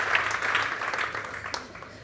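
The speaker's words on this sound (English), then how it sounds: "So I want you all to give a very warm applause to Erin Beilharz" Warm audience applause at a talk on sustainable aviation at a techno festival, a dense steady patter of many hands that fades slightly toward the end.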